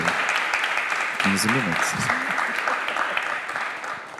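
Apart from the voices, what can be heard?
audience applause for the speaker Adilton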